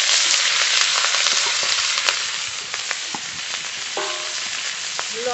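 Radish greens with garlic and slit green chillies fry in mustard oil in a wok, giving a steady, loud, close sizzle with occasional crackles and no talk.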